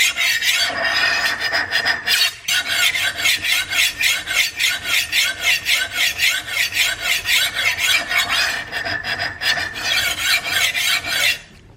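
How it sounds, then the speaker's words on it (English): A kitchen knife drawn over a sharpening stone in steady, rhythmic rasping strokes, loud and close, roughly two per second with no talking. "that will sharpen your knife, and you will have a maintained angle"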